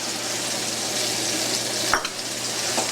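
Pre-cooked bacon goes into a reducing sauce for chicken scallopini, with a continuous close sizzle and a brief stirring scrape about halfway through. No talking.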